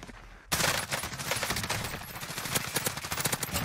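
Dense automatic gunfire from Call of Duty Warzone bursts in suddenly after a brief quieter start, then keeps up as loud, rapid, overlapping shots with sharp peaks for several seconds.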